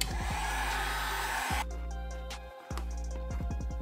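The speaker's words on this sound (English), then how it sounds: "hit it with a heat gun real quick to finish her up" A heat gun blowing hot air to finish plastics on a CR250 dirt bike: a steady, loud whooshing roar that cuts off partway, then a lower-pitched fan hum with some clicks, and the roar returns near the end.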